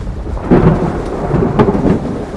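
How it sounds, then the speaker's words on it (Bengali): Loud rolling thunder rumbles close by, with a heavy low boom swelling twice over steady rain. "বিদ্যুৎ চমকালো, বাজও পড়ল কোথাও।"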